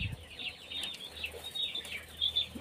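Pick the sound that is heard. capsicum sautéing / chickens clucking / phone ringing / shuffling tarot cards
chickens clucking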